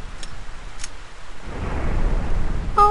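Rain falls steadily and a low thunder rumble swells in the stormy weather of GTA San Andreas, getting louder toward the end, with a couple of brief higher ticks.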